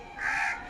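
A single crow caws once at moderate distance, a short harsh call that swells and fades over about half a second against quiet outdoor background during a Jivitiya festival morning.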